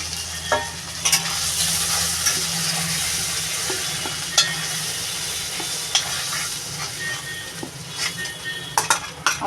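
Prawns frying in a pan, a steady close hiss of hot oil with occasional spatula clinks and scrapes against the pan.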